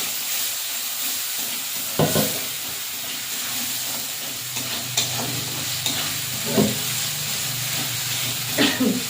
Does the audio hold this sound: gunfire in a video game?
no